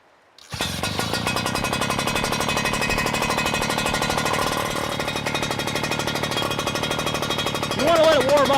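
A Wildfire MARK3 pressure washer engine fires up after choke pulls and settles into a loud, steady, close idle with rapid regular pulsing, with a voice briefly heard near the end.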